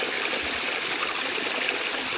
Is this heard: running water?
yes